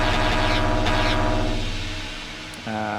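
A section of an electronic track plays with its 808 bass removed, leaving dense sustained synth layers and tones that fade slightly before a brighter chord enters near the end, without talk.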